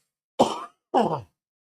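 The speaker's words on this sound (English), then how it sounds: "I'm going to cough again." Two separate coughs, close and fairly loud, with a short pause between them and nothing else around.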